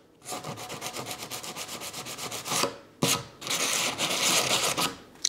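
Close, rhythmic rasping of sandpaper rubbed by hand over a wooden table in fast back-and-forth strokes, briefly pausing and resuming.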